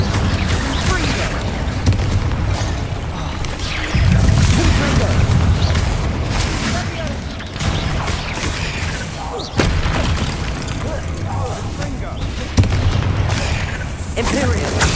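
Confringo and Incendio spells in Hogwarts Legacy explode one after another as several heavy, booming bursts over a constant loud, roaring battle din. The blasts come at irregular intervals and sound close and powerful.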